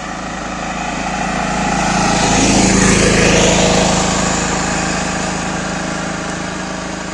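A 2023 Jawa 42 cruiser motorcycle revs hard in first gear toward about 8,000 rpm, a loud rising engine whine that swells to a peak midway and then slowly fades as it moves away.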